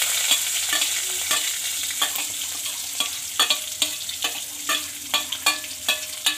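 Onion frying in hot oil with mustard seeds, cumin and garlic, a loud steady sizzle up close broken by regular scraping strokes of a spoon stirring the pan.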